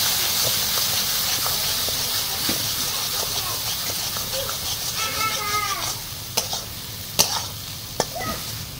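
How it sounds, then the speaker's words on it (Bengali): Spice paste with turmeric powder sizzles and hisses steadily in hot oil while being stirred for a Bengali chital fish curry, with a few sharp utensil clinks near the end. "এখন অ্যাড করব হলুদ গুঁড়ো, এবারে মশলাটা আর একটু কষিয়ে নেব।"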